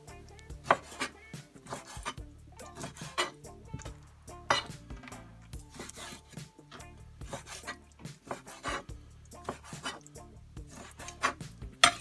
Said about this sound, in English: Cutting this breast up in chunks.